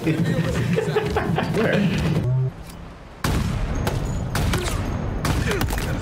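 Halo Infinite gunfire, bursts of rapid shots and booms with game effects, broken by a brief quieter gap, while a player talks over the action.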